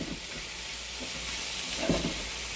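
Zucchini and onion with garlic frying in a pan, a low continuous sizzle and hiss with faint stirring taps, brief and quiet, no voices.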